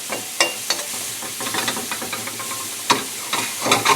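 Leeks and garlic with a touch of flour frying in a hot pan, steady sizzling hiss with scattered clicks and scrapes of stirring, close and continuous, no talk.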